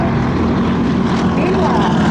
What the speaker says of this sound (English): If you look left, you'll see our P-36 chasing down the Zero.